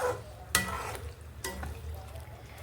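Amaranth and tomato curry cooking in a pan over high heat, a soft continuous sizzle with two sharp stirring scrapes, close and fairly quiet with no talk.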